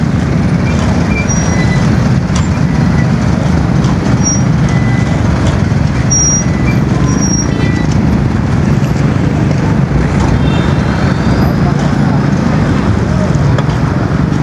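A concrete mixer truck on a road during concrete pouring gives off a loud, steady low rumble mixed with wind noise, continuous and close for the whole stretch.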